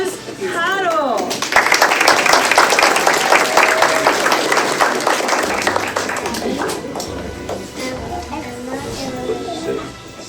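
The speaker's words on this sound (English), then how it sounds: "A huge round of applause for our next graduate" At a kindergarten graduation ceremony, a crowd breaks into loud, steady clapping for a graduate that carries on for several seconds and then tapers off, while a voice speaks over it at the start and children's voices surface near the end.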